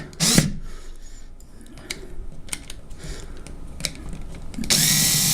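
A power screwdriver drives a screw into a cork board mounted with keyhole slots, making short whirring bursts and clicks between quieter handling noises, close and fairly loud, with no talk.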